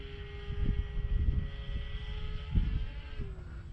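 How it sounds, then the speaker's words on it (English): A Cessna light airplane flying aerobatic maneuvers gives a steady droning propeller engine with a sustained tone that dips slightly in pitch near the end, mixed with rumbling, buffeting noise, moderately loud and without talking. "she's a Cessna, so she's not necessarily supposed to be an aerobatic plane"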